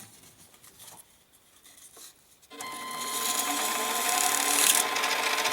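A nickel ring being sanded with sandpaper, quiet handling and taps at first, then a sudden steady loud rasping scrub that continues close up to the end.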